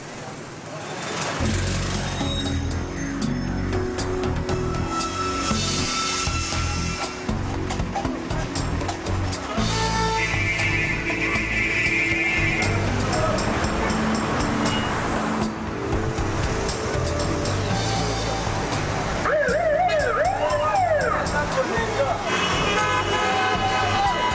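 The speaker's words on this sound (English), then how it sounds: "Twice a day, Rio grinds to a halt as the rush hour takes the city over." Rush hour traffic in Rio de Janeiro, with a steady roar of cars and engines, repeated car horns and some squealing, dense and continuous throughout, with talk mixed in at times.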